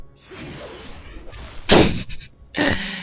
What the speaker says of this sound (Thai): ลูซิเฟอร์ยิงไม่โดนแน่นอนฮะ